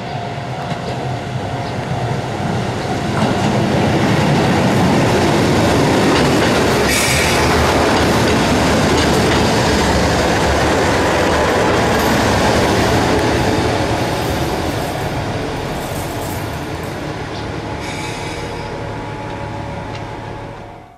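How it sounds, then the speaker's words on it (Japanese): A diesel railcar rolls into a station with a loud, steady rumble and clatter of wheels, brakes faintly squealing as it slows and gradually quiets. "まもなく上り列車が参ります。"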